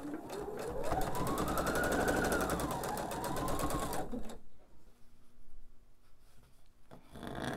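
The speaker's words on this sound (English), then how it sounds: "I'm just going to sew scant quarter inch seam right to that valley to complete this half triangle block D." Sewing machine running a scant quarter-inch seam on a half-triangle quilt block, a fast steady close whirr of stitching for about four seconds, then a quiet lull with faint handling.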